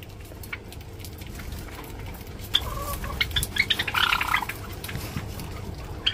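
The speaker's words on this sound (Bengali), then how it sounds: "দেখো শুধু দেখো কত জাবা পাখি" A flock of white Java sparrows in an aviary gives scattered, faint chirps and short twittering bursts, growing busier midway, over a low background hum.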